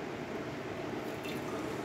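Hot water runs from the dispenser of an ECM Giotto espresso machine, a continuous close hiss and gurgle of flowing liquid with no pause and no voices.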